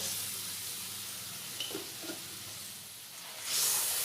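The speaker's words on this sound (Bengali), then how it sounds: "এবার ওতে দিয়ে দেব মশলা ধোয়া জল।" Spice-rinsing water poured into a hot pan of blended garlic, green chilli and tomato paste for an egg curry makes a steady hissing sizzle. A brief louder burst of hiss rises near the end.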